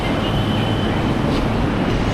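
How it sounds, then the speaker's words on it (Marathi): A metro train arriving at a station in Mumbai, heard as a steady, loud rumble of wheels and car noise filling the whole stretch with no voices. "तर मॅट्रो आली आहे"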